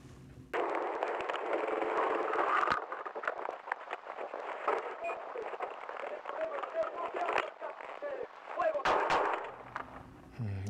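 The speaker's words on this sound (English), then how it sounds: "Officers open fire." Police body camera audio of officers opening fire during a confrontation, with a loud burst of sharp gunshots amid shouting and scuffling, then more noisy commotion near the end.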